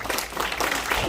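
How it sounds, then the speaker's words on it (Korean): Audience applause in a church hall for a guest pastor at a Korean-American ministers' seminar, a brief dense wash of clapping held steady for about a second. "큰 박수 한번 부탁드리겠습니다"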